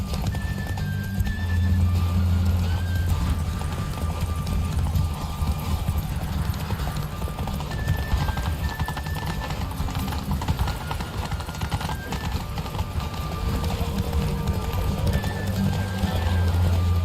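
A horse galloping in The Witcher 3 video game, steady pounding hoofbeats with occasional whinnies, loud and continuous over a game soundscape and low rumbling music.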